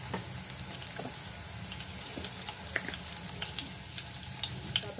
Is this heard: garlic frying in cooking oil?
yes